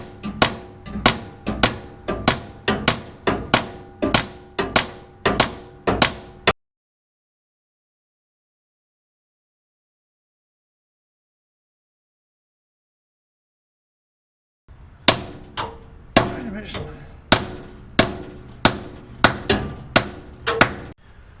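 Repeated metal hammer blows land on the timing cover of a 1968 Impala, steady evenly spaced strikes in two bursts separated by a long silence, loud and close.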